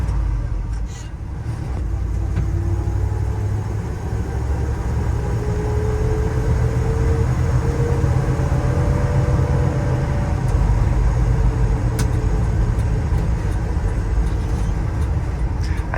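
A 1973 Ford F-350 custom fire truck pulls in a very short, low first gear, its engine giving a steady, loud droning rumble with little change throughout.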